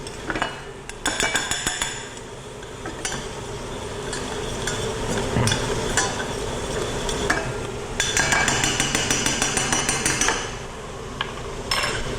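Leek goes into a hot pan where garlic is already browning, and is stirred. A utensil clinks and scrapes sharply against the metal in irregular bursts over a low sizzle, with no voices.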